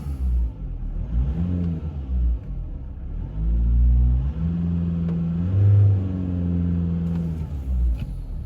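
A Mitsubishi ASX engine with a boost/MAP sensor fault idles with a steady low rumble, rising briefly in a couple of gentle revs before settling back, heard close without any talking.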